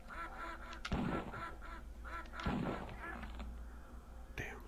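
Cartoonish duck quacks from a 1995 3DO video game, a few bursts in a row at moderate loudness, mixed with other game sounds.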